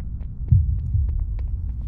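Loud, close heartbeat sound effect in World of Warcraft, a few deep low thumps throbbing under a faint hum, with no talk.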